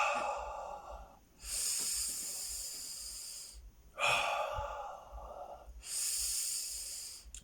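Slow, deep breaths are drawn in and let out in long airy hisses, close and fairly quiet, each inhale and exhale lasting a couple of seconds with short pauses between.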